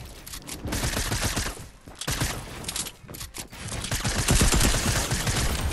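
Rapid video game gunfire builds into loud, dense bursts of shots with brief pauses, then keeps rattling continuously toward the end, with no speech over it.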